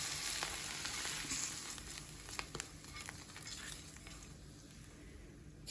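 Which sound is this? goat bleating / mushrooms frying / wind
mushrooms frying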